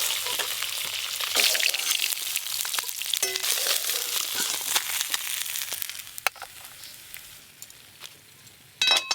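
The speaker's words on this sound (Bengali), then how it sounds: "এই মাছগুলো ভাজা হয়ে গেছে" Katla fish frying in oil in a home kitchen, a steady bright sizzle that thins toward the end, with a short louder burst of crackling at the very close.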